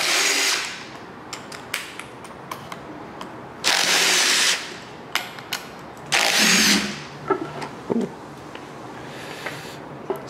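A power tool spins off the four 8 mm valve cover bolts on a 5.3L LS LM7 V8 engine in short whirring bursts, with clinks and shuffling of parts between them, close by with no talking.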